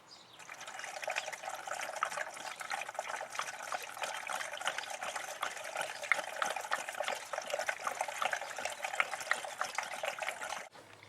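Coolant poured into a car radiator during a flush, a faint, steady trickling splash of liquid running for about ten seconds before stopping abruptly near the end.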